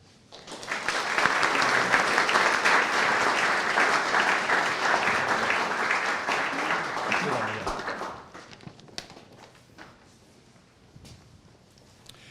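Audience applause greets a panel at the 2016 Arthur Ross Awards architecture symposium: a full, dense round of clapping for about eight seconds that then tapers off into scattered claps and room rustle.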